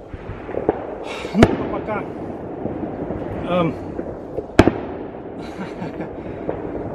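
Fireworks and firecrackers burst at New Year's midnight, with two sharp loud bangs and scattered crackling pops under a man's speech.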